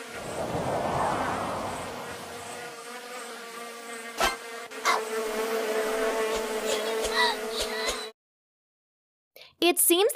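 Steady insect buzzing with a flat droning hum and faint whine, continuous for about eight seconds, then it cuts to silence before a brief burst of other sound at the end.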